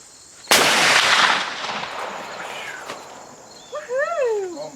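A single loud shot from a brand-new CVA Wolf V2 muzzleloader rifle being sighted in cracks sharply and close, then rolls off in a long fading echo; a short whoop of voice follows near the end.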